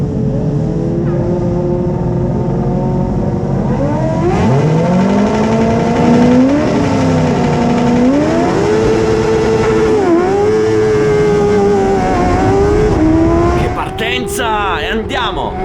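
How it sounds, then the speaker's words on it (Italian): Race car in a sim-racing game launching at full throttle with the clutch dropped and wheels spinning, engine note climbing and shifting through gears loudly and steadily, ending with a few sharp bursts. "Full gas, mollo la frizione, ho ruote che slittano e spero di avere una buona trazione."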